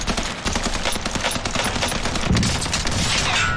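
Dense rapid gunfire from a video game's online bot lobby, a continuous fusillade of overlapping automatic shots running throughout at steady loud level.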